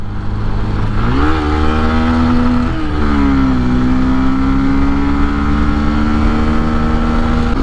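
A Bajaj Pulsar N125 motorcycle accelerates across a bridge, its engine note climbing quickly and then holding a steady, buzzing drone under constant wind rush, with no voices.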